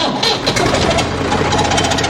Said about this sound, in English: little tractor never fails to start